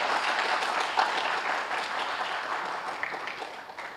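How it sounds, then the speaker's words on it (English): Students at a high school civics forum applaud visiting town officials, a dense burst of many hands clapping at once that holds steady for a few seconds before tapering slightly, with no talking over it. "Yep, you guys can give them applause if you want."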